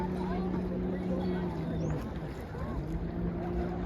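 Jet ski ride on open water outdoors, a steady droning engine hum with rushing water and wind noise, and people talking and calling out over it throughout.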